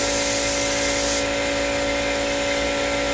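A spray gun hisses steadily, laying a first coat of blue trim paint with almost no thinner onto a Yamaha FZ600 fuel tank, a loud continuous airy rush that drops slightly in brightness partway through.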